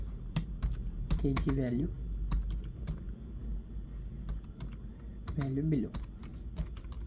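Someone types text on a computer keyboard while building an Android unit-converter app, producing rapid, close, irregular key clicks in bursts while someone speaks briefly in Hindi.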